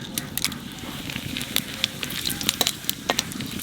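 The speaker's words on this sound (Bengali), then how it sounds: "তেলের মধ্যে দিয়ে দেবো জিরে আর তেজপাতা" Cumin seeds and bay leaves hit hot oil in a pan, giving a steady close sizzle peppered with sharp crackles and pops.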